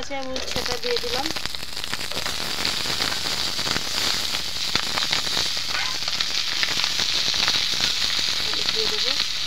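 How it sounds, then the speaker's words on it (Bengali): Bitter gourd added to fried fish roe sizzles in a pan with a continuous, moderately loud crackle and spatter, with a voice speaking briefly at the start and end. "ডিমটা ভাজা ভাজা হয়ে গেছে, আমি উচ্ছেটা দিয়ে দিলাম।"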